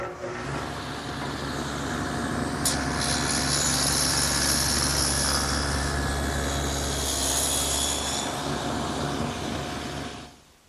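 A power tool, likely a router, cuts a groove into the side of an oak workpiece in a woodworking shop, a loud steady whine with a brief sharp burst near the start, running for about eight seconds then stopping.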